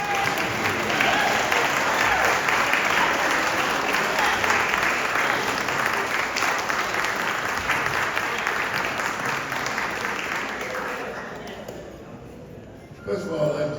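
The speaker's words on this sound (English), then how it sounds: "a standing round of applause" A reunion crowd at the Escambia County Training School gives a standing ovation, dense sustained clapping that stays loud for most of the time before tapering off near the end.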